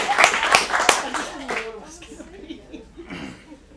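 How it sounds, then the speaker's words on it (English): Audience at an adult acting showcase in Phoenix applauds the next performer, a short burst of clapping and a few laughs that quickly fades under someone speaking. "let's give an applause for our next performer."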